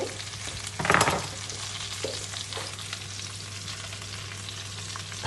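Shredded cabbage dropped into a hot pan for a pork rib stew and stirred, a burst of louder sizzling as it goes in, then a steady, quieter frying hiss close by.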